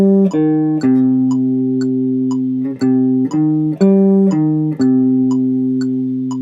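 Guitar chords strummed in a minor key, a steady sequence of ringing sustained chords changing about every half second to second, played alone with no talking.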